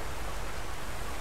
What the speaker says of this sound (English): Look at this waterfall.